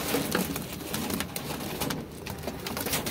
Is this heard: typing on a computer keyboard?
no